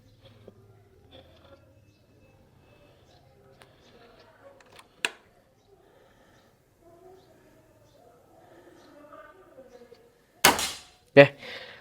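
A tactical bullpup air rifle fires one loud, sharp shot near the end, followed closely by a second sharp impact or report. Quiet handling noises and faint background sounds come before it.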